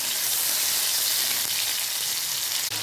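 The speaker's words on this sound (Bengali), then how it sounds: "চিংড়ি মাছ এমন একটা মাছ যেটা একটু বেশি ভাজলে শক্ত হয়ে যাবে, তাই এটাকে আমি বেশি ভাজবো না" Prawns frying in hot oil in a pan while a bottle gourd and prawn curry is being made, giving a steady, dense sizzle that holds loud and even throughout with no voices.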